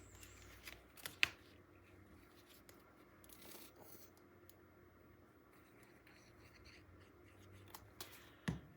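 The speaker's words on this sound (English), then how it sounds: "And then I cut the plaid piece." A plaid paper piece for a 9 x 9 mini album is cut, with faint close snips and soft paper rustling throughout and a couple of sharper clicks near the start and end.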